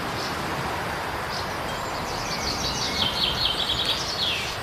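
Several birds chirp and trill in short high bursts over a steady outdoor background of rustling and flowing-water hiss, fairly close and clear, with no one speaking.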